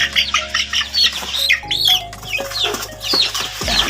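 Rhode Island chicks peeping close by, a busy run of high, rapid chirps repeating throughout over a low background hum.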